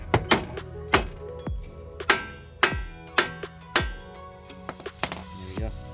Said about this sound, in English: I'm just going to try to smack the knuckle with a hammer a bit and see if it comes up.